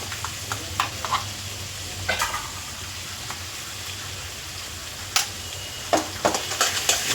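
Mustard paste sizzles in hot oil for a hilsa fish curry, a continuous frying hiss under scattered scrapes and taps of a spatula that bunch together toward the end; close and moderately loud, with no voices.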